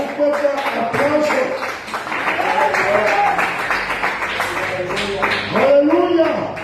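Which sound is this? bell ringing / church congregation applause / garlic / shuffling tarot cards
church congregation applause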